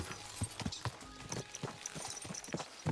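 Horse hooves clip-clop in Kingdom Come: Deliverance II, a quick uneven run of sharp near hoof strikes on hard ground, with faint background sound and no talk.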